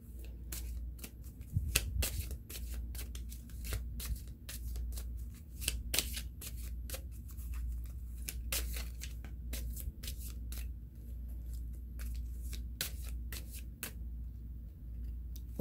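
Soft, continuous shuffling of tarot cards: irregular riffling clicks and light slaps over a low steady hum, close by, with no talking.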